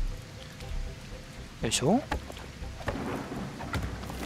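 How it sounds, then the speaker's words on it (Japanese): Thunderstorm with steady rain in the game Sengoku Dynasty, a continuous wash of rainfall with a sharp rumbling burst midway, while someone speaks briefly over it. "本当に相変わらずの嵐やめてほしいですね"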